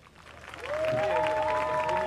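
Audience applause rises for a young woman candidate called onto stage at a Mayotte pageant, building from quiet to a steady crowd clapping, with a held musical tone and cheering layered over it.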